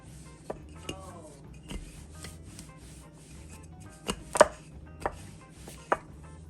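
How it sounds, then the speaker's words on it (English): A floured rolling pin rolls out coco bread dough on a work surface, making steady rubbing and scraping with scattered soft knocks and taps at close range. "I have my rolling pin with the flour as well. Now we're just gonna roll these."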